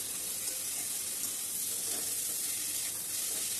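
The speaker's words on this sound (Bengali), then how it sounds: "আবার মশলার সাথে একটু কষিয়ে নেব।" Tangra fish sautéing with spices in a pan gives a steady, even hiss of sizzling oil throughout, with no talking.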